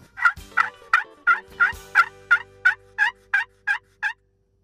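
A turkey call played with a striker, struck in a steady series of about eleven sharp, yelping notes, evenly spaced and close, with nothing else in the background.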